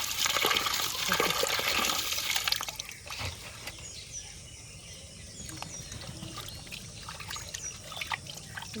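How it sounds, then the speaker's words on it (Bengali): Tap water runs and splashes while a katla fish is washed, louder for the first few seconds, then a quieter trickle with small drips, close by. "এখন মাছটা ভালো করে ধুয়ে নেবো"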